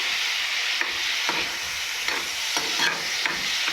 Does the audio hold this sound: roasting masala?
yes